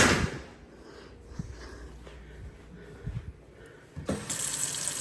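Water runs from a household tap in short bursts, a faint start that fades, a few splashes and knocks in between, then a louder steady gush near the end, close by.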